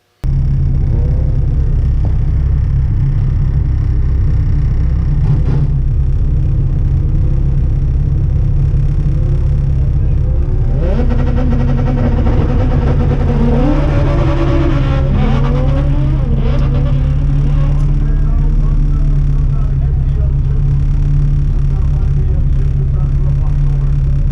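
Ford Escort engine at a drag strip, a steady loud low drone with rising revving sweeps in the middle as the car runs, with voices talking over it.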